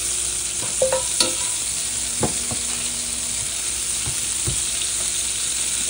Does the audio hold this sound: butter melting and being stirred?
yes